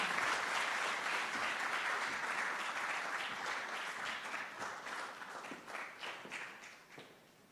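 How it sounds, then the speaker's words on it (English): An audience applauds at a formal speech event in South Africa, with sustained, dense clapping from many hands that slowly thins and fades toward the end. "Please give him a round of applause as he rises to the stage."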